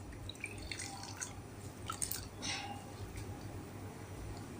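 Water drips from a wet cotton cloth dipped in water and wiped over a heated griddle, a few soft, close, irregular drops and splashes over a low steady background hum, no talking.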